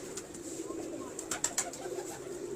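Pet fancy pigeons cooing softly at low volume, a steady murmur with a few brief sharper sounds breaking through around the middle.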